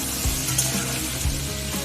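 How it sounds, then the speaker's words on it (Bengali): Tomato and green chili fry in oil over a tempering of dried red chili and cumin, producing a continuous close sizzle with a few soft spatula scrapes at regular intervals. "প্রথমে লঙ্কা আর টমেটোটা অল্প ভাজা করে নেব।"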